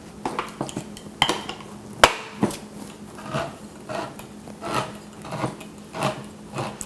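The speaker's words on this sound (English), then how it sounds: "Shake up our coconut milk." A can of coconut milk is shaken up close for a satay marinade, giving a steady run of rattling, sloshing knocks with a few sharper metallic clunks, and no voice over it.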